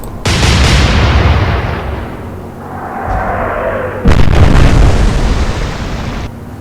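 A naval gun salvo thunders out in the Atlantic Fleet sea battle, with a loud explosive blast, a long rumbling decay and whistling shells, then a second heavy burst of impacts, close and booming with no talk.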